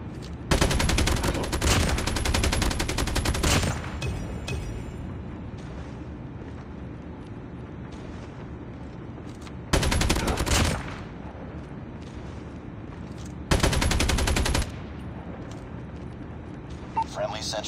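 An RPD machine gun in Call of Duty Mobile fires three long, loud automatic bursts separated by quieter stretches of game ambience.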